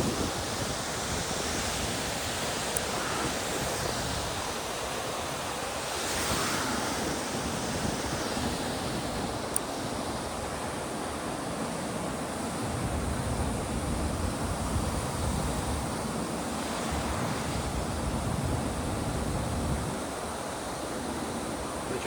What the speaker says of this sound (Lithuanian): Čia kaip ir minėjau, čia vėjas.